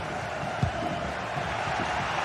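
Steady stadium crowd roar from the GT Sports video game, a dense broadband wash that holds at an even level throughout with one brief thump near the start.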